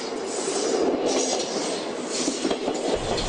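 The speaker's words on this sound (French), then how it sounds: "Ce que vous entendez derrière, c'est le bruit du train qui passe." Train passing nearby in Holland, a steady broadband rumble and rush with faint rhythmic clickety-clack of wheels on rails, continuous and fairly loud throughout.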